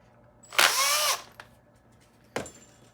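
A power drill drives screws into opposite corners of a kydex press with split dies, giving one loud half-second burst that winds up in pitch, followed by two brief, sharp spurts.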